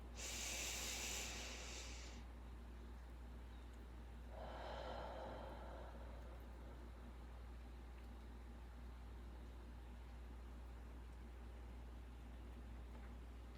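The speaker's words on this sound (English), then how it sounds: "let's take a deep breath in, and then we'll breathe it out" One person takes a deep breath in, a breathy hiss lasting about two seconds, then lets it out in a softer exhale a few seconds later, followed by quiet room tone.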